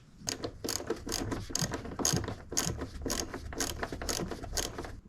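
Screws are driven back down on a Mk2 Skoda Fabia 1.6 TDI engine during a service, with a steady run of quick, close ratcheting clicks, about two or three per second, over quiet background noise.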